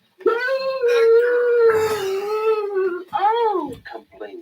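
Dog on a children's Halloween story record howls in a long wavering cry that rises and falls, then breaks into shorter yelps and whimpers, loud and close with no talk over it.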